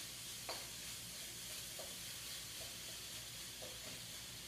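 Chicken sizzles quietly browning in a pan, a steady faint hiss with a few soft pops and clinks scattered through it.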